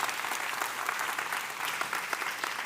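An audience at a conference applauds a speaker named Marc, a dense, steady patter of many hands clapping at moderate distance throughout, with no voices over it.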